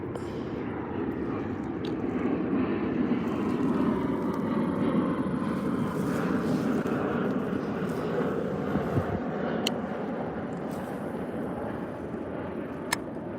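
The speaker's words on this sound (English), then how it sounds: "Planes flying into the Dallas Fort Worth airport." Airplanes fly in toward Dallas Fort Worth airport, a low, steady engine rumble that swells and fades gently at a distance, heard outdoors over a fishing spot with no talking.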